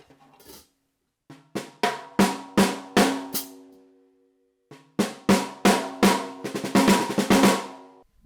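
Reggae snare drum, freshly tuned, struck in two bursts of sharp ringing hits with a short pause between, the second run quickening into rapid strokes; close and clear with no talking.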